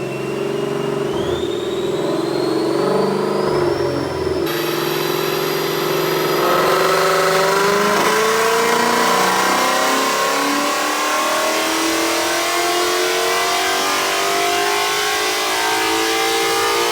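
A 2019 Mustang GT with a 10-speed automatic in a dyno pull, its engine revving up through the gears from a low rumble to a loud, sustained high-rpm roar lasting many seconds.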